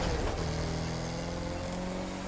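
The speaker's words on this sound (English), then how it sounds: "sound of this car is pretty amazing as well" Jaguar car engine in The Crew 2 racing game, a steady loud engine drone with sustained tonal hum and a brief rising rev at the start, no talking.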